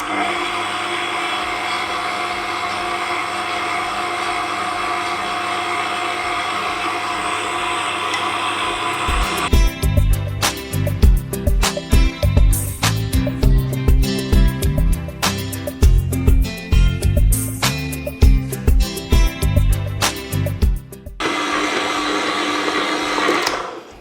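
An electric mixer kneads bun dough, starting as a steady whirring hum that then jumps to a louder, choppier churning as the speed increases, before returning to a smooth drone near the end.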